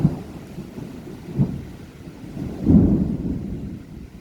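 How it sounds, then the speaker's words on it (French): Low thunder rolling through the mountains during a storm, deep rumbles swelling and fading in a couple of broad waves, distant but heavy, with a faint rain-and-wind wash beneath. "vous entendez comment ça gronde dans les montagnes?"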